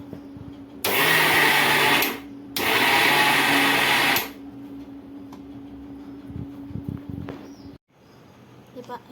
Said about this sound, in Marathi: आता आपण याला मिक्सरमधून फिरून घेऊया.